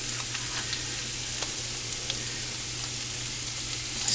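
Carrots sizzle steadily in a pan of butter and brown sugar, a continuous close crackle and hiss with a low hum underneath and no talking.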